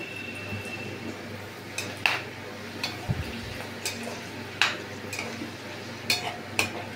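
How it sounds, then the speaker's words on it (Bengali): Whole spices frying in oil: bay leaves, cardamom, cinnamon and cloves. A low, soft sizzle runs throughout, broken by scattered sharp clicks and spatters at irregular intervals, close by and quiet, with no voices. "10 থেকে 20 সেকেন্ডের জন্য আমি এটাকে একটু ফ্রাই করে নেব"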